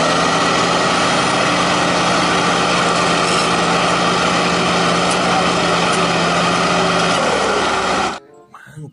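A toy bulldozer's motor whirs in a steady, loud, buzzing drone for about eight seconds. It then cuts off abruptly, leaving near silence.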